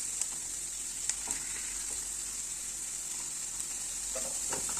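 Fish fillet and onions fry in a pan, a steady close sizzle with occasional brief pops and crackles running through all five seconds, with no talking.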